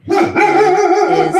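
A dog barks loudly and close by, a couple of sharp, rough barks running into a sustained, growly bark, with a brief spoken word overlapping.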